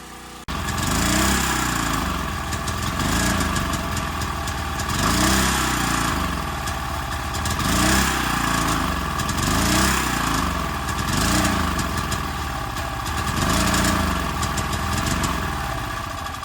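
A 1000 watt portable gas generator runs nearby with a steady, slightly pulsing engine drone that rises and falls in a regular rhythm, loud and with no talk.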